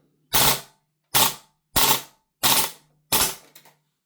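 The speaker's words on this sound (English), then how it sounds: "We'll do some bursts, shall we? So let's put it in auto, see how it does." An Archwick APC9K gas blowback airsoft gun firing on full auto: five sharp, loud rapid-fire bursts separated by brief silences, the last one sputtering out as the gas runs low.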